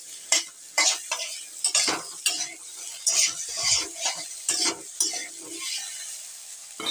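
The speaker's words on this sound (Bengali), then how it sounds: "ভালো করে এবার নেড়ে নেড়ে ভালো করে কষে নেব।" A spoon scrapes and stirs okra curry in a hot pan in quick repeated strokes, with a steady close sizzle of frying underneath and no talking.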